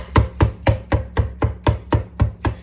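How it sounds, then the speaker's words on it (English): Tinned tomatoes chopped in a pan for spaghetti bolognese, nine steady, evenly spaced knocks of a utensil striking the pan base, close and clear with no talk. "Going to add in our tin of tomatoes, and we're going to give them a nice big chop as well."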